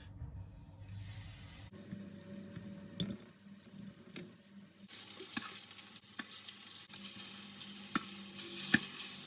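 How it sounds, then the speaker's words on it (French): Strips of starch-coated tofu deep frying in oil: quiet at first, then a dense, bright sizzle swells up midway and keeps crackling steadily, with a few soft knocks along the way. "En attendant que le tofu frit tranquillement"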